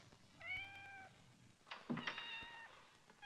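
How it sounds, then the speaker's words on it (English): A cat meows twice, two clear drawn-out cries with a soft knock between them, fairly quiet. "Still, I hate to hear a cat cry."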